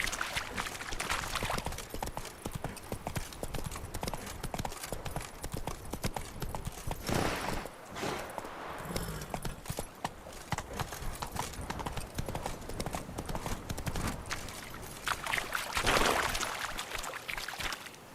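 Roach, Geralt's horse in The Witcher 3 on PS4, gallops with rapid rhythmic clip-clop hoofbeats over a busy game soundscape, steady and continuous with a brief surge near the end.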